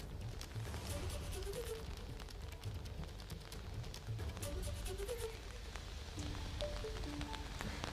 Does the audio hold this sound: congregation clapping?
no